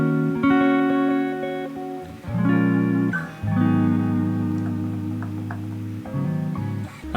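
Electric guitar played through a lo-fi Ableton effects rack, a few sustained chords and plucked notes ringing with a warm, slightly wobbly processed tone, close and alone without voices.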